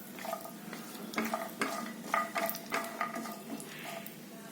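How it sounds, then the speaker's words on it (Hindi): An ingredient is dry-roasted in a pan, with a quiet run of rhythmic stirring scrapes and soft sizzle over a few seconds. "तब तक इसको भून लेती हूँ।"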